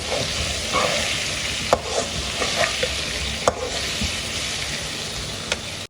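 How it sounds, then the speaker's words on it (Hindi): Shinwari-style beef karahi fries steadily over a low flame, giving a continuous close hiss with occasional sharp scrapes and clicks from a stirring spoon against the pan. "15 से 20 मिनट के लिए लो फ्लेम पे इसे फ्राई करेंगे, कम आंच पर।"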